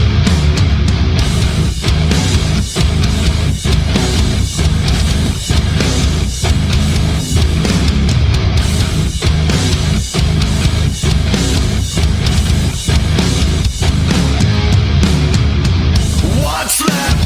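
Music plays back through a streaming setup: a loud, beat-driven track with regular percussive hits and full harmonic backing that runs continuously.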